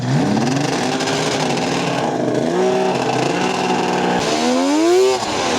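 A big-block two-stroke engine on a racing lawn mower bogs and then accelerates, its raspy buzz rising in pitch in repeated surges, loud and near with nothing else over it.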